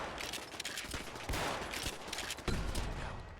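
Dense, rapid gunfire in Fallout 4 as a Mossberg shotgun blasts amid chattering automatic fire from turrets, loud and continuous with heavier booms.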